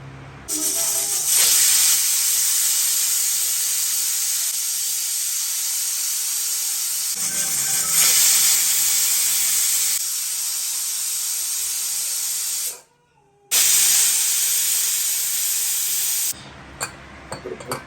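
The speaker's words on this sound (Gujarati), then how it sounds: "હવે આમાં કુકરમાં 3 થી 4 સીટી વગાડવાની છે" A pressure cooker boiling mango seeds hisses loudly in long bursts of steam release, stopping briefly between them, with a short high whistle-like tone.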